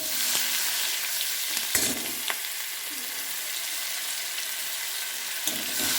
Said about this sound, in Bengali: রসুনটা একটু নাড়াচাড়া করলাম